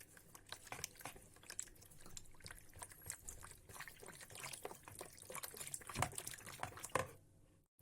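Cooking oil poured into pizza dough ingredients, a faint, soft trickling pour with small splashy drips, quiet and close, ending abruptly.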